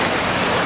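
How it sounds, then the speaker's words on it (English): The Bow River rushes in flood in Calgary in 2013, water pouring over a submerged walkway with a dense, loud, continuous roar. It sounds close, and no voices are heard in this short stretch. "Look at this river."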